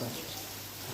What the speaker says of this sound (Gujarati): કન્ટિન્યુઅસ ચાલુ છે સવારનો વરસાદ